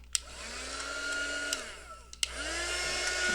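A heat tool runs with a steady, whooshing blower roar and faint whine while drying gesso and glue on a craft piece. It clicks on twice, running continuously in two close stretches.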